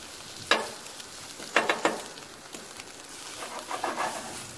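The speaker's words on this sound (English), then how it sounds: "All right, so I just flipped the toast. Flip the eggs." Eggs flipped and frying on a BBQ grill beside toast: a soft, constant sizzle broken by a few sharp scrapes and taps of the spatula, close by, with no voices.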